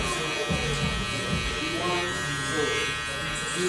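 Electric hair clippers fitted with a half guard, lever open, cutting hair for a mid fade, a steady close buzz running throughout under a voice.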